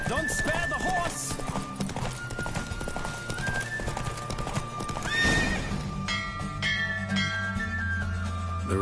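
Rhythmic hoofbeats of a galloping horse with a whinny in the video game The Witcher 3, set against game music and sound effects, fairly loud and continuous.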